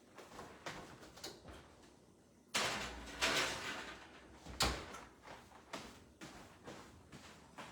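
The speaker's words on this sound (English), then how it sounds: "let me pop this in my oven" A home kitchen oven door is opened and shut while spinach and artichoke dip goes in, with clunks, a sliding rattle and a firm closing thump amid quiet handling noises.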